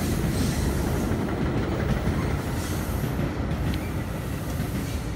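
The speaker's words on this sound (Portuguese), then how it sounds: "E vai no sentido contrário também, o outro trem." A commuter train bound to or from New York rumbles steadily past close by near a station on the Fourth of July, a loud, continuous rolling roar of wheels and cars with no voices.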